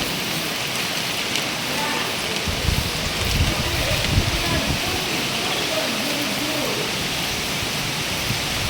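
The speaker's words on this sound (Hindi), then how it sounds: "बारिश बहुत तेज़ हो रही है" Heavy monsoon rain pours down at the Bheemashankar temple site, a dense and steady hiss of downpour striking surfaces all around, loud and close throughout, with murmuring voices faintly underneath.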